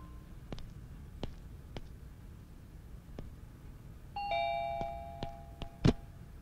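A doorbell rings once with a clear two-tone chime over faint background noise and a few soft clicks.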